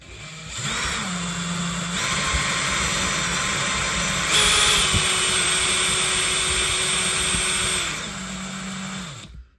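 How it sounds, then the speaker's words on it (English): A loud power drill whines steadily for several seconds, drilling a patchwork of holes during a model railway street lighting repair, its motor pitch rising and dropping as it works, then spinning down near the end. "So we're going to drill, there's one there, just patchwork of them."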